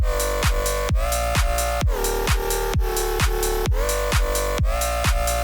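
A synth bass throbs in a steady pumping rhythm from sidechain compression, its volume ducking and swelling on each beat, loud and alone with no voices.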